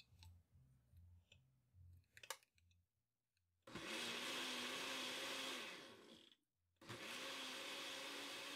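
A kitchen blender blends chile relleno ingredients in two loud whirring bursts that start and stop sharply. Lighter clicks and taps come before them.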